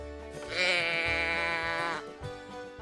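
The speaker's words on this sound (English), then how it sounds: "The sheep says ba, ba." A sheep gives one loud, sustained bleat lasting about a second and a half, close and clear over light background music.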